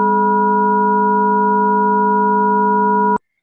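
Helium's spectrum rendered as sound, a sustained chord of stacked steady tones with more upper partials than hydrogen's, playing loud and unchanging for about three seconds before cutting off sharply.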